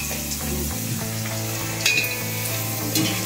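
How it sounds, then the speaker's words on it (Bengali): Luchi frying in hot oil makes a continuous close sizzle, with a couple of light utensil clinks along the way. "এদিকে উনি লুচি ভাজছে।"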